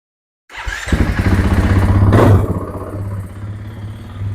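A freshly rebuilt 2025 KTM 500 EXC-F single-cylinder dirt bike starts up close by with a sharp catch. It rises into a loud, thumping blip of revs, then settles into a steady, lumpy idle.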